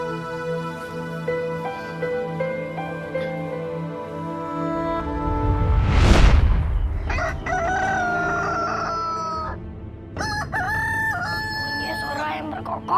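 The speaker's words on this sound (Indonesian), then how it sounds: "Punya suara yang berkokok." A rooster crows loudly and close by in one long rising cock-a-doodle-doo, followed by clucking and other fowl calls over a low background hum.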